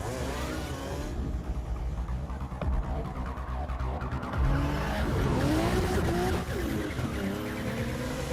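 A car engine revs hard during an action-movie chase, with loud sustained roaring, rising gear whines and squealing, skidding tires that grow more intense in the second half.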